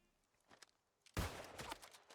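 Musket shots in New World, one loud close blast followed by ringing tail, preceded by a few faint softer thuds.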